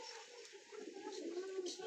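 A domestic pigeon coos softly in a loft, a low murmuring call that rises gently toward the end, faint and close.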